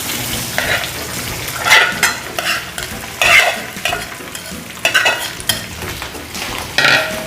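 Boiled potato pieces stirred into a hot tempering in a pan for vada usal, with repeated scraping stirs rising over a steady close sizzle and no voices.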